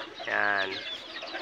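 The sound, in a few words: chickens clucking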